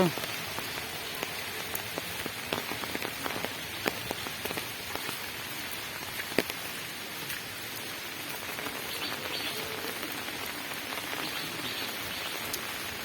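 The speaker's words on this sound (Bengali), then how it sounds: "বৃষ্টি এখনো হচ্ছে বৃষ্টি বোধহয় চলে এসছে" Steady rain falls and patters on surfaces throughout, with scattered louder drops ticking nearby at an even moderate level and no talk.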